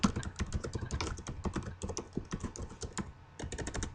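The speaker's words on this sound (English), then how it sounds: "And I start typing quotation marks." Rapid clicking of keys on a computer keyboard, close and continuous, with an uneven rhythm of quick strokes and short pauses.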